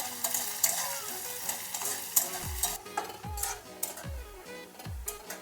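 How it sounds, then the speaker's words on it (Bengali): A large chopped onion is added to a pan and fried in a Bengali-style soya chunk curry, sizzling softly as a spoon stirs and scrapes it in regular, rhythmic strokes. "একটা বড় সাইজের পেঁয়াজ আমি কুচি করে নিয়েছি, দিয়ে দিলাম। পেঁয়াজটা একটু লাল করে ভেজে নেব।"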